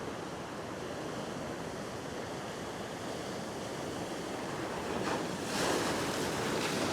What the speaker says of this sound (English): Yeah, it's a big wave out the back.